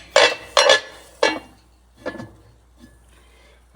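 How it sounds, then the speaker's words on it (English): A lid is set onto a cast iron skillet with a few sharp metallic clanks and scrapes, three louder hits in quick succession followed by fainter knocks, close up and without talk. "Put the lid on the skillet."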